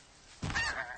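A goose in Horizon Zero Dawn gives a single loud, nasal honk that starts abruptly and trails off within a second, with no talk.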